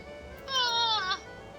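A single cat meow, clear and close, lasting under a second over quiet background noise; the cat is heard during a Final Fantasy XIV game session.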